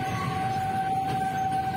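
A steady siren-like horn wails from a noisy jeepney carrying passengers before dawn at 2 AM, holding one sustained tone throughout over a constant rumble of traffic noise.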